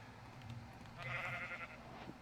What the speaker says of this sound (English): So if I spawn in like a sheep